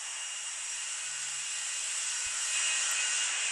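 A steady, loud airliner engine drone with broad hiss fills a flight simulator game cruising on autopilot, continuous and unchanging, with no talk.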